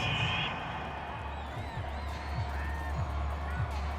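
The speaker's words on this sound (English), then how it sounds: "This home crowd, they're happy with that call" A home stadium crowd in the Madden NFL 22 football game roars in a steady, dense wash of cheering, with whistles and whoops drifting over it and a few low thumps underneath.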